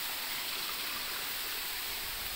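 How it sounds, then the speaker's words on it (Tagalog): Dampalit Falls, running weaker than usual, gives a steady, even rush of falling water that fills the whole stretch without a break, heard from a moderate distance with no voices. "Ayun yung waterfalls."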